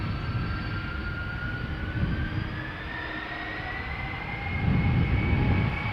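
A ten-year-old TUI Boeing 787-8 Dreamliner bound for Montego Bay takes off from Schiphol's Polderbaan, a steady moderate jet roar with a rising engine whine and swells of low rumble, no talking.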